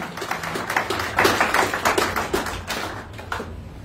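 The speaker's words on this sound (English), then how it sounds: "Please give to the Lord a round of applause" A church congregation breaks into applause, a dense run of hand claps that swells in the middle and then tapers off, heard near and steady with no voices over it.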